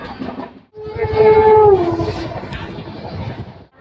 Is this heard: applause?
no